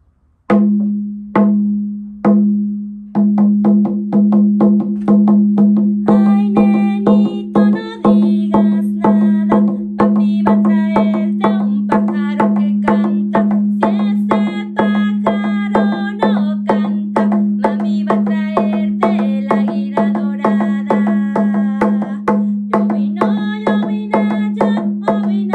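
A 30 cm ceremonial temazcal hand drum struck with steady, resonant booming beats, first a few spaced hits, then a continuous rolling rhythm that rings on throughout.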